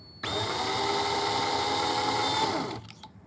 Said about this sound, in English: you're just kind of squaring up that flash hole, or deburring it